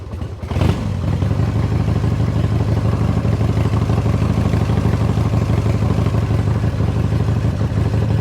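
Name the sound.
Harley-Davidson motorcycle engine started and idling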